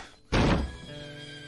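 A horse on a farm gives a loud, sudden neigh or snort that swells abruptly and trails off over about a second, heard alone without any talk.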